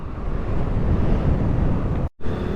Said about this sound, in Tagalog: Ang lakas ng hangin, oh. Sobrang lakas guys.